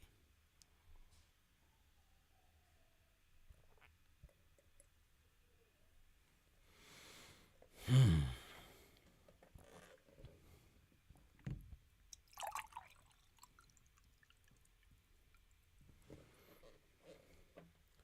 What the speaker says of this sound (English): You hear that shit pouring next to the microphone.